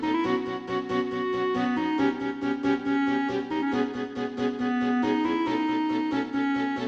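A melodic instrumental leitmotif from the game Deltarune plays steadily, a clear recurring tune over sustained harmony, moderately loud with no voices.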